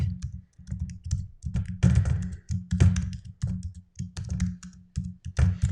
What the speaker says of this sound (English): So let me just type that.